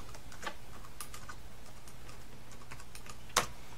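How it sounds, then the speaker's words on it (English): Quick keystrokes on an iMac keyboard as a password is typed, soft clicks spread across a few seconds in a quiet room, ending with a single louder key press. "I'm gonna enter my password here."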